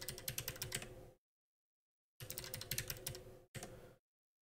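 A password is typed on a computer keyboard in quick, quiet bursts of clicking keystrokes: two runs of about a second each and a short final burst, with silent pauses between.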